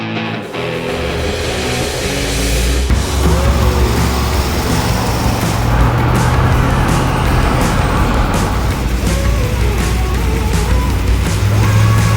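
Custom-built supercharged LS3 6.2-litre V8 car engine running loud and steady, a close, continuous deep rumble that holds for the full stretch with no talking over it.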